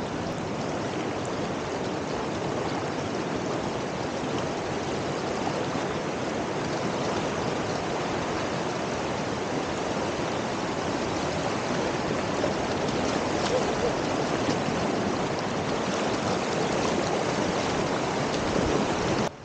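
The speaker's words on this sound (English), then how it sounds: "This is one of the cleanest rivers we'll ever play in" A clean mountain river with no houses along its banks rushes in a steady, broadband wash of flowing water, continuous and fairly close, with no voices over it.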